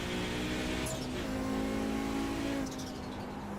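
Simulated Audi 90 GTO race car in a racing video game, engine droning steadily through a corner at Daytona International Speedway, with a sustained loud tone that dips briefly as the driver lifts, then eases near the end.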